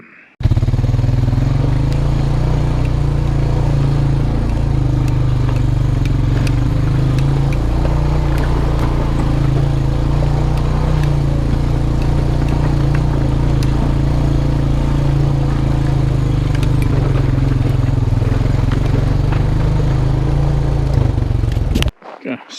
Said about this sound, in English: I just want to put miles on the quad. Do love riding it.